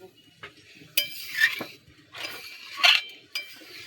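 Mung dal with pumpkin greens being stirred in a pot, with several scraping spoon strokes and light metallic clinks against the pot, close and alone.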